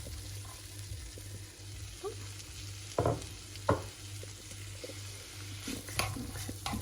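Onion frying in butter for a chicken pie filling, a low, quiet sizzle under a steady hum, broken by a few sharp clatters and stirring knocks.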